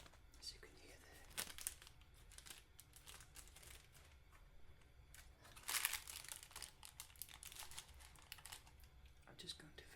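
Paper is crumpled and torn by hand to line a cake tin, giving soft, close crinkling with a few sharper tearing bursts, very quiet overall, with low whispered speech alongside.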